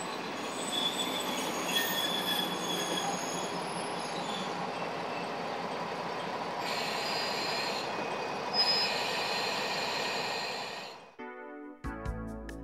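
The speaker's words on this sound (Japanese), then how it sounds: "猫娘列車が弓ヶ浜駅に着きました。" A Japanese local train on the Sakai Line pulls into Yumigahama Station with a long, loud, steady rumble and a high metallic squeal from the wheels, before the sound suddenly cuts off.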